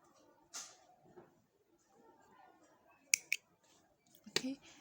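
Scissors snip through crochet yarn, leaving a tail for seaming a tank top: two quick close cuts near the middle, then another pair of snips, with faint rustling between.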